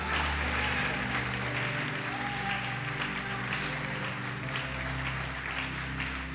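A church congregation applauding during a sermon, sustained dense clapping from many hands spread across the room, steady throughout with a low musical drone underneath.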